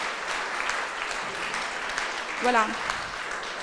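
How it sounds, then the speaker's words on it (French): A conference audience at a women's innovation colloquium gives a steady wash of moderate clapping that continues throughout, with a voice briefly speaking over it. "Je pense qu'on leur doit des applaudissements"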